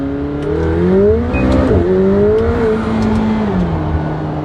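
McLaren 720S engine pulling hard through first gear toward the redline, a loud rising tone that sweeps upward with a brief dip near the shift point, then holds steady, close and continuous with no talking.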